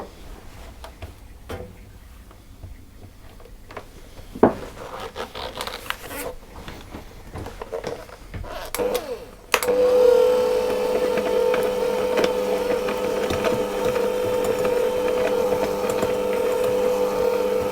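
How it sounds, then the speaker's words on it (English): An electric hand mixer creams sugar and butter for speculaas spice cookies, starting abruptly partway through as a steady, loud whir with a constant motor pitch that runs without pause to the end. "Now I'm going to do that with my hand mixer"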